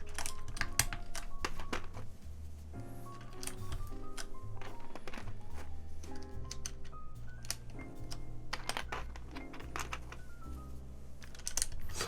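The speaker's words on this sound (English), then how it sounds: "Look at how fast I can put on GMK keycaps." GMK keycaps being pressed onto a RAMA M65-A keyboard, a steady run of quick plastic clicks and snaps, close and clear, with no one talking over them.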